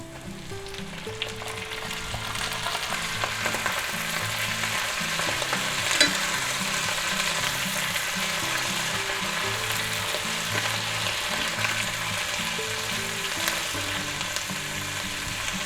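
Canned button mushrooms and onions sizzling in a hot pan alongside ribeye steak, a steady crackling fry with occasional stirring, no talking.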